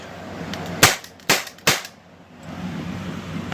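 A Crosman 3357 paintball revolver fires three sharp, loud cracks in quick succession, each with a short decay. Faint outdoor ambience runs between and after the shots.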